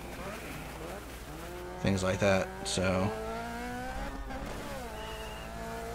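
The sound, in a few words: racing car engine and tire sliding in video game DiRT 3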